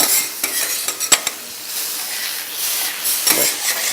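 Beef cooking on a very hot stone, a steady sizzling hiss with scattered clicks and scrapes of a utensil against the surface, close and continuous.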